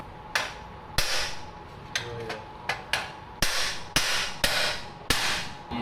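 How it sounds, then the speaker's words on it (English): Sharp hammer blows beat on an exhaust plate to knock it down, about ten loud metallic strikes at an uneven pace, each with a short ringing decay. "So we're going to beat and bang on this."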